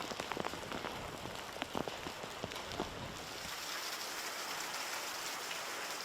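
Heavy rain pours steadily in Trois-Océans, Mauritius, a dense continuous hiss with scattered louder drops and splashes early on, then settling into an even, broad wash.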